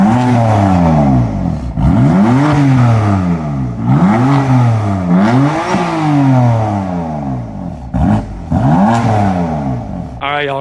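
A BMW M4 with its stock exhaust revs hard several times in a row, each rise and fall in pitch loud and close, with a low rumble between bursts.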